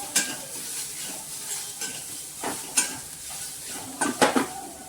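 Turmeric and chili powder stirred into a sizzling pan, soft frying hiss under intermittent scraping strokes and light clinks of a spoon against the metal, close and without speech.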